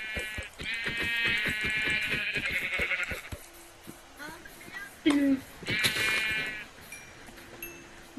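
Blocky Minecraft sheep bleat in several loud, wavering calls within the video game, with people talking in Turkish between and over them.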